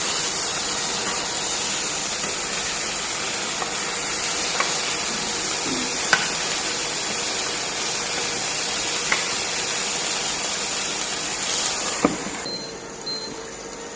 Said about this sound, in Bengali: টমেটোটাও ভাজতেছি। এখনকার টমেটোটা তো ভালো, এই জন্য জাস্ট তেলেই ভাজতেছি।